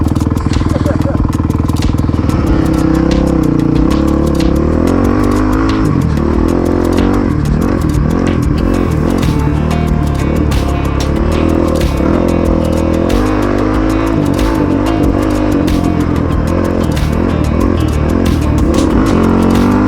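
A Honda CRF450X dirt bike is ridden hard on a trail, its engine revving and surging loud and close throughout, with rough clattering from the terrain and a rider's voice cutting in over the engine.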